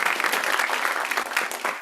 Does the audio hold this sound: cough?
no